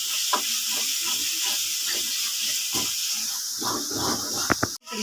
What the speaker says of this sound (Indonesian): Nggak lupa kita goreng ya, serai sama daun salam.